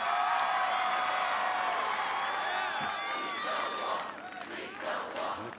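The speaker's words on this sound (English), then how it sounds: "And the crowd chanting" A large outdoor crowd at an American Ninja Warrior finals course at Venice Beach roars and chants loudly and continuously for about four seconds, with whoops and shouts, then fades to a looser murmur.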